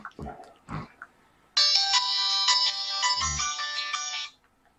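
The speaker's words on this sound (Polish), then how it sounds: "A weź wyłączy ten telefon!" A mobile phone ringtone rings loudly for about three seconds, a bright repeating melodic tone that cuts off abruptly, with a few low thumps and brief sounds before it.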